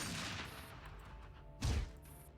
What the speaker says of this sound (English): With another loud gunshot, another black nitro hits the metal floor.